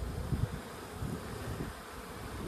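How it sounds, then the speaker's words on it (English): Faint, low buzzing of a swarm of bees on a tree outdoors, drifting in and out, a soft continuous hum with a few louder passes close by, heard without any voices. "is that a bunch of bees on that tree over there?"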